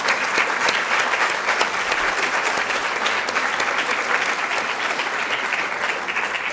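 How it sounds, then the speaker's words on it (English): A large audience gives a long, steady round of applause for honoured science teachers at a university ceremony, dense and even clapping filling the hall without pause. "I just think that you'd all like to give them a round of applause for all that they've done"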